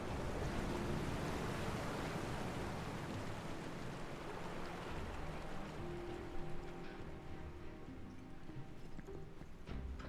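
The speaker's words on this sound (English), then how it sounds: "It's going to drain some of the water." Water rushing and draining through a sewer in the video game Final Fantasy 7 Remake, a steady loud broadband wash with faint tonal hum, continuous throughout.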